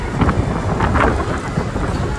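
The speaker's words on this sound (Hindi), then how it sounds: "तूफान आ रहा है।" Steady heavy rain with a low thunder rumble rolling through in a storm at Rajaji National Park, Uttarakhand, continuous and close, no voices.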